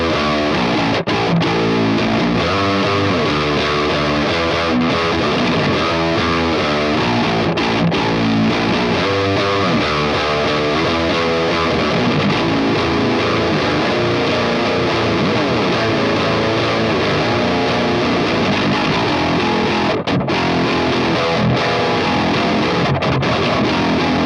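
A Bass VI with Loathe pickups in humbucker mode plays through a high-gain FM3 tone, a thick distorted sound of chugging, rhythmic low riffs and sustained chords that stays loud and dense throughout.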